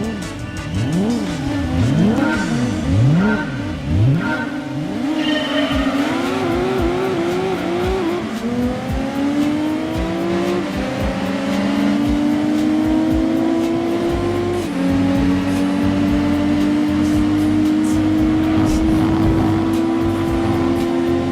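Race cars in Gran Turismo 2 rev and accelerate, their engines climbing in repeated upshifts with sweeping pitch changes and some tire squeal, loud and continuous throughout.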